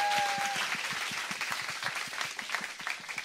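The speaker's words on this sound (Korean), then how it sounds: "박수 부탁드리겠습니다" A studio audience at a talk show claps in a burst that starts loud and gradually thins into scattered, fading claps.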